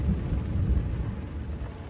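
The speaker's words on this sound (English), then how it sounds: "A little thunderstorm." Thunder during a thunderstorm at a campsite, heard as a low, steady rolling rumble with rain-like hiss across the whole short stretch and no voices.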